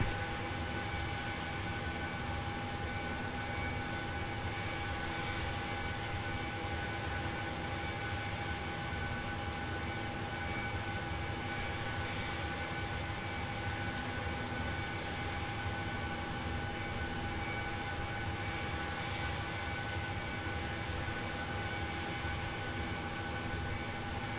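Steady jet engine whine and broadband rumble from an airliner taxiing in a flight simulator, alone with no talk, holding an even loudness throughout.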